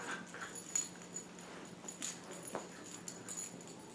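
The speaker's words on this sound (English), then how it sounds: "And I do apologize if you hear a little squeaking or growling." A pet dog plays indoors, giving scattered squeaks, short whimpers and faint growly noises at an irregular pace, fairly quiet and intermittent against a low room background.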